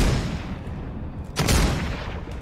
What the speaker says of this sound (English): Evochrome shotgun. I'm gonna shoot it right now.